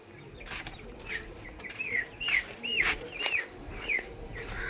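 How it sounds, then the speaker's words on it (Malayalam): Outdoors on a sunny yet rainy day, a chicken gives a run of rising, sweeping calls, about eight spaced over a few seconds, clear against a soft background hum. "കോഴി"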